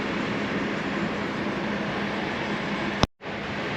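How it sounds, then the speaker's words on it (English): Amtrak's southbound Crescent passenger train, led by an ALC-42 Charger locomotive, rushes past close by as a steady broad roar of wheels and air, with a sharp break near the end before the rumble resumes. "We had to pull over to let the southbound Cresent train from New York to New Orleans pass."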